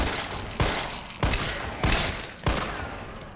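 Four loud gunshots from the Resident Evil 3 Remake video game, fired at zombies and spaced roughly evenly apart, each a sharp blast with a short ringing tail.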